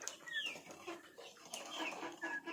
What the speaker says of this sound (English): This chicken, as you can see,